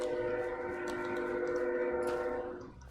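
A train in the video game VillageCraft roars past loudly with a sustained horn-like tone, a continuous heavy rumble that fades slightly at the end.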